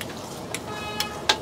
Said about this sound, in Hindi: तड़का लगाया जा रहा है।